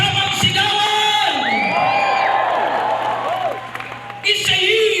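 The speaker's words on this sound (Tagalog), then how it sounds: "Pinapalapagan niya ng malakas. May kasamang sigawan." A church congregation at a thanksgiving and jubilee service applauds loudly with whoops and shouting, voices rising and swelling across the hall before a brief dip and a fresh burst.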